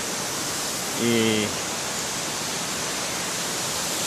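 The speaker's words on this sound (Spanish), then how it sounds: "aquí mostrándole lo que es la cascada de Mármore" Dense, steady roar of the Marmore waterfall in Italy fills the whole clip, loud and broadband, with a brief voice speaking over it near the start.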